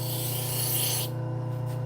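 A knife blade is deburred against a spinning Scotch-Brite wheel, making a steady abrasive hiss over a constant motor hum that drops away as the blade is lifted, leaving the wheel humming alone.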